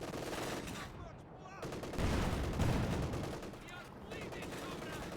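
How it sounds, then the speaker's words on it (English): Rapid bursts of machine gun fire in a Company of Heroes 2 match, German Wehrmacht against Soviet forces with Conscripts and a Panther, sounding dense and continuous among other battle noise, with a commentator talking over it. "Finding some kills with the machine guns."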